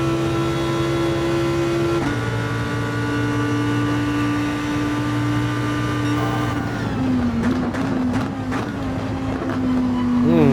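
A McLaren 650S GT3 race car in Gran Turismo 7 holds a steady, loud engine drone at high speed, then shifts pitch with gear changes and revs up toward the end.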